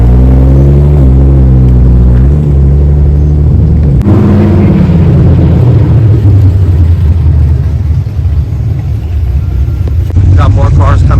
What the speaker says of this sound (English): Got more cars coming through. It's getting a little bit more louder here.